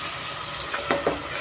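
Tomato puree frying in a pan for mutton biryani, a soft continuous sizzle with a couple of brief stirring scrapes near the end of the short stretch.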